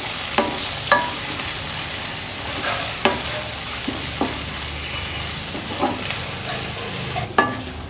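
Chopped garlic, ginger and green chillies sizzle steadily in hot oil in a pan for dhaba-style masala bhindi, with a spoon scraping and clinking against the pan every second or so.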